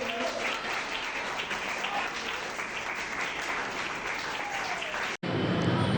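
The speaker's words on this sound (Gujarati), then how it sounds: "વિજયભાઈ પણ ઉપસ્થિત છે તેમના માટે પણ ખાસ તાળીઓ દેવી" An audience applauds for guests at a gathering honouring the sponsorship of twelve disabled children, steady dense clapping from a crowd that cuts off abruptly near the end.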